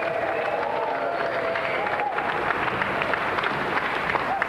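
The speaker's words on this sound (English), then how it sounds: "Another round of applause for our winner and our Golden Music Christmas prize." Loud, sustained applause from a large TV game show studio audience, with some cheering mixed into the continuous clapping.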